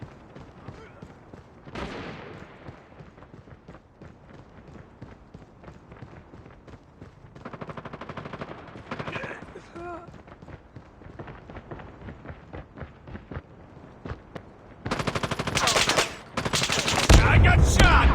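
Gunfire in a Call of Duty match set in Kazakhstan: bursts of rapid automatic fire and single shots go on throughout, near and loud, mixed with game sounds and voice callouts, and grow heavier toward the end.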